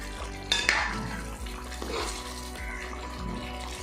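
Duck mappas curry is stirred in a pan: a couple of metallic clinks of the spoon near the start, then soft scraping strokes over a low, steady kitchen hum.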